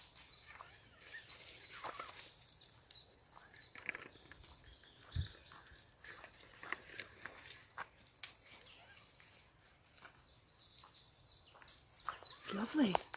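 Wild birds sing and chirp outdoors in a quiet spring setting, a steady chorus of overlapping high twitters and trills running throughout, with occasional footsteps and faint low rustle beneath.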